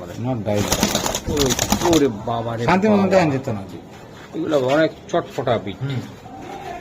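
Budapest racing pigeons coo in a loft, low throaty calls that come and go beneath loud, nearby talking.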